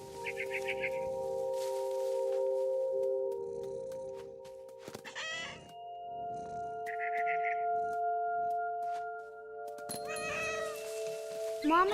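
Cat meowing in the game What Remains of Edith Finch, several clear meows spaced across the scene over a steady musical drone and soft ambient movement, with brief bird chirps between them.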